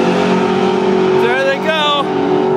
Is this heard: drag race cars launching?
yes